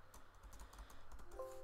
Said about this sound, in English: You can also just type in the box.